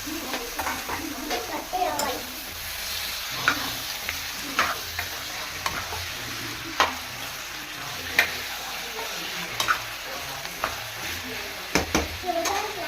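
Chicken sizzles in a frying pan with a steady crackling hiss, interrupted by frequent sharp scrapes and taps from stirring; a faint voice now and then.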